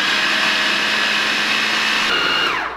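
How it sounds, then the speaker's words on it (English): A food processor whirs steadily at high speed, pureeing a Thai fish cake mixture of fish, curry and egg, a loud close motor hum with no talk that winds down and stops at the end. "I'm gonna start to turn our food processor again so everything can mix it together"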